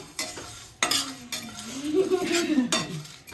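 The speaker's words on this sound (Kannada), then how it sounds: "ಇವಾಗ ಇದನ್ನು ಸ್ಮೆಲ್ ಬರೋವರೆಗೂ ಡ್ರೈ ರೋಸ್ಟ್ ಮಾಡ್ಕೊಳ್ಳೋಣ" Cinnamon, cloves, cardamom and cashews dry roast in a pan while a spoon stirs them, giving a few sharp metallic scrapes and clinks, with a brief voice partway through.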